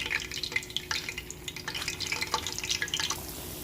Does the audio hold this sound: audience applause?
no